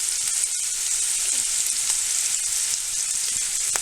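Onions frying in hot oil for mango chutney, a loud continuous close sizzle with faint stirring scrapes, no talk.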